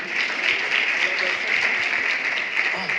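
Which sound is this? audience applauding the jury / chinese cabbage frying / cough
audience applauding the jury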